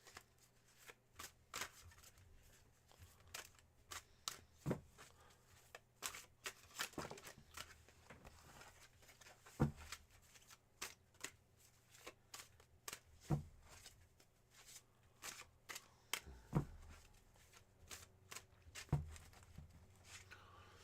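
Tarot cards are shuffled repeatedly up close, crisp riffling bursts and soft taps coming in uneven clusters against a quiet background.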